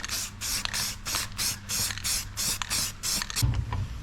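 Rust-Oleum flat black ceramic coating sprayed onto VW Bug brake drums in short aerosol bursts, about ten hissing pulses in a steady rhythm, close and fairly loud, ending with a brief clunk.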